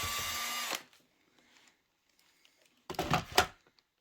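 A power driver whirs out a large Torx screw from a Nestle Dolce Gusto coffee machine being scrapped, one loud burst at the start, a quiet pause with faint handling, then a second whirring burst.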